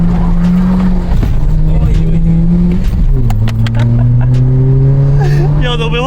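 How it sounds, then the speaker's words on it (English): VW Polo 1.4 with a sports exhaust and the rear box deleted, launching hard with wheel spin: a loud, close engine roar climbing through the revs with a gear change midway, with occasional voices over it. "the wheel spin then was stupid"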